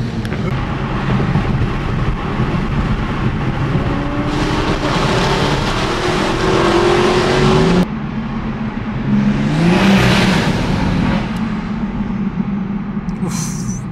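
Several cars driving together in convoy toward a car meet, engines droning steadily with a rising rev around the middle and a vehicle sweeping past close by.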